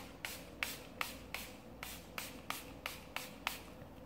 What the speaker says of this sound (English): Milani Make It Last setting spray. It's matte.